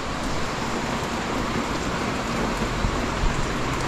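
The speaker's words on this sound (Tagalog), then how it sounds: "mula kanina umuulan na" Steady rain pours down continuously, a dense even hiss of drops with an occasional louder patter.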